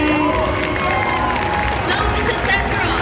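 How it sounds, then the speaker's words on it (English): Audience at a DreamHack Hannover 2022 cosplay contest claps and cheers for a costumed contestant on center stage, a dense, steady roar of crowd noise with scattered shouts filling the hall throughout. "And a big round of applause for Ryu!"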